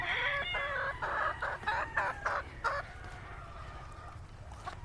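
Five laying hens in a coop cluck in a run of loud, rhythmic bursts for several seconds, then quieten to a lower background murmur near the end.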